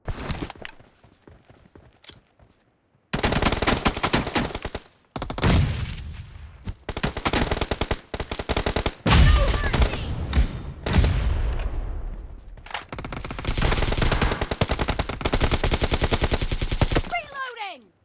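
Dense rapid gunfire in PUBG Mobile comes in long automatic bursts separated by short pauses, loud and close, after a few quiet seconds at the start.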